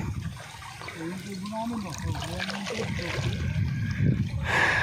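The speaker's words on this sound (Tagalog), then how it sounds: "dito pala dumadaan yung tubig dito" Water rushes steadily under a person talking, with a continuous splashing wash that grows a little louder toward the end.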